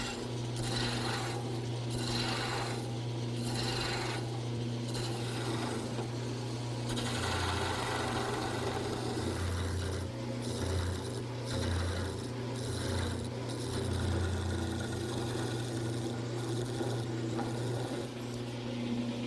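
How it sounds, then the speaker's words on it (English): Wood turning on a lathe with gouges and a scraper while making quilt rack parts, a steady motor hum under continuous scraping and rasping cuts that come in repeated strokes, no talking. "To make all the rest of the turnings, I'm going to use a variety of gouges and maybe even a scraper."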